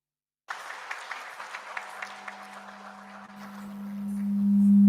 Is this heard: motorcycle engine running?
no